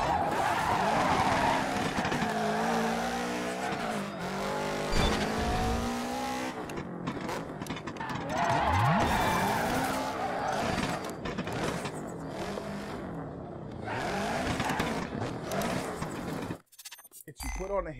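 Car in the Dirt 3 racing game skidding and spinning out on the handbrake, with loud sustained tire squeal and engine revving over continuous game noise, while a voice talks over it.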